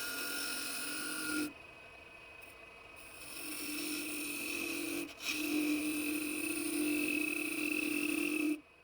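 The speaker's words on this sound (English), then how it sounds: "I smooth the outer shape of the salt shaker with a skew chisel." A skew chisel smooths the outer surface of a wooden salt shaker on a woodturning lathe, giving a steady scraping hiss over the lathe's hum that breaks off briefly twice before resuming, with no voices.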